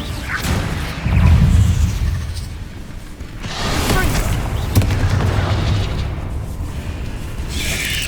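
Fire blast spells exploding in the video game Hogwarts Legacy, with several deep booms and whooshing bursts spaced across the scene and voices calling out between them.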